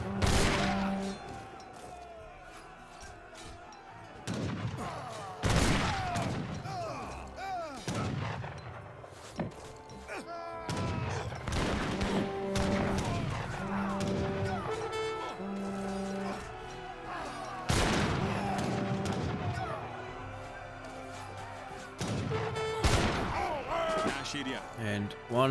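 Repeated gunfire volleys in Age of Empires 3 as musket troops snipe knights, sharp loud cracks recurring every few seconds amid game music, with someone commentating over them.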